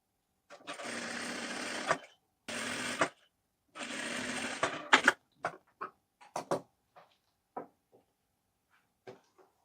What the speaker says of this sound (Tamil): பாருங்கள், நம்ம பைப்பிங் வந்து ஸ்டிச் பண்ணியாச்சு.